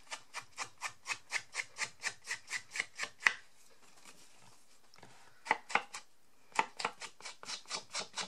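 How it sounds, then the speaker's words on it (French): Repeated rhythmic rubbing strokes of a blending tool applying Black Soot Distress Oxide ink to card edges, a quick even run of soft scrapes, then a pause with a few scattered taps, then the strokes resume. "Je vais venir lui ancrer les bords avec ma black soot."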